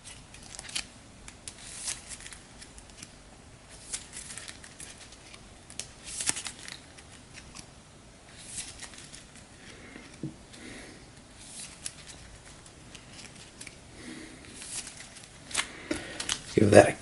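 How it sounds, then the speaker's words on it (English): Dark Arts cards of a board game being shuffled by hand, soft papery riffles and flicks repeating close by, fairly quiet, with a faint louder flutter near the end. "We'll shuffle up the Dark Arts cards heading into Hermione's turn."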